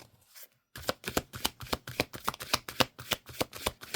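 A deck of tarot cards is shuffled close up in a quick run of crisp riffling bursts after a brief quiet start.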